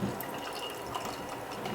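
Montauk golden ale poured into a Guinness pint glass makes a steady, close hissing and splashing of liquid for the whole stretch, with no one talking.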